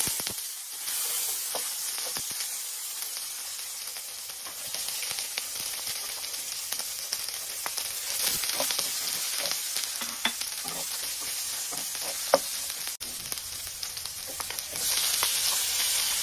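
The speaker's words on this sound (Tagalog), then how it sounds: "igisa muna natin yung bawang sa kaluya, saka sibuyas at kamatis" Garlic, ginger, onion and tomato sautéing in a pan for a fish soup with saluyot, a steady close sizzle and hiss with scattered stirring clicks and scrapes throughout, no talk.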